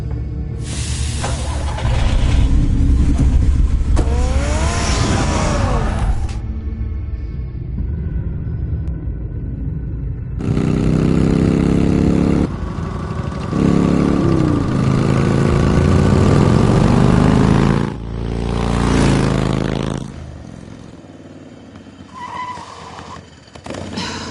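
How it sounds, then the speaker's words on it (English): Batmobile engine in the Telltale Batman game, a loud deep rumbling roar in long bursts with revving and surging, broken by short pauses, then fading to a lower idle near the end. "Get the car ready"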